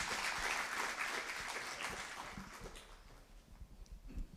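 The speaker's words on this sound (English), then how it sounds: "Can we have a round of applause for our first two?" Audience applause at a Fremont Heartfulness gathering, a moderate burst of clapping that starts full and gradually thins out to scattered claps.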